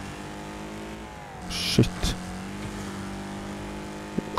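Racing car engine in the Wreckfest video game, droning and revving steadily throughout, loud and continuous, with a couple of sharp crash-like thumps around the middle and a man swearing briefly over it.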